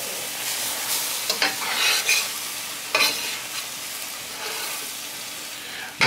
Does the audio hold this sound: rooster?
no